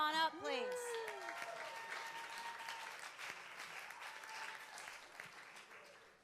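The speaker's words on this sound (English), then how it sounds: "I knew you'd get a bigger applause than I would" A synagogue congregation at a Friday night service bursts into applause for a birthday, a full crowd clapping steadily beneath a nearby voice speaking at the start.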